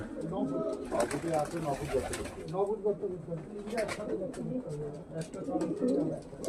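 Fancy domestic pigeons, including Madras and Andhra types, coo steadily in a cage, soft repeated low coos layered and close, with someone talking over them throughout.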